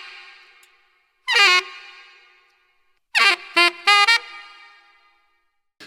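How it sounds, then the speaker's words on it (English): Saxophone falls, each striking a high note then sliding steeply down to a lower target note; one fall near the start and a cluster of several more a couple of seconds later, loud and close, with short echoing tails and no talk. "Hit that high note and then go pew, and then ping it down to hit that target note."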